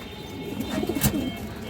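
A pigeon in a loft gives a soft, low rolling coo, brief and close, over faint background hiss with no talking.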